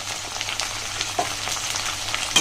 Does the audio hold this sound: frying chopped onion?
yes